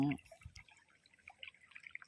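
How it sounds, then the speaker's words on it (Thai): Faint trickling water flowing along a field ditch with scattered small drips, quiet and close, after a brief voice at the very start. "ที่มีน้ำไหล ไปอีกฝั่งหนึ่งนะครับผม เป็นร่องน้ำนะครับ"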